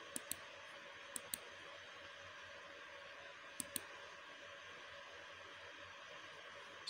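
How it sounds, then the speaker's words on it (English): Sparse computer mouse clicks, single and in quick pairs, tap faintly over a steady hiss while a Google AdSense account is being closed. "after that you click on close account."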